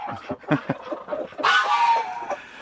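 Clucking birds on a farm in winter, then a loud rooster crow close by, rising and holding for about a second before trailing off.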